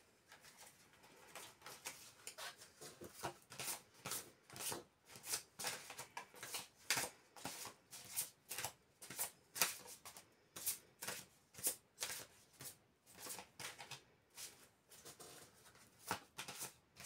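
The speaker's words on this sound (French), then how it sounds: "je prends l'oracle de la numérologie karmique de David Mogiel pour réaliser votre tirage" Oracle cards for a card reading shuffled by hand, a steady series of soft, quick riffling and flicking bursts repeating over and over at close range, fairly quiet.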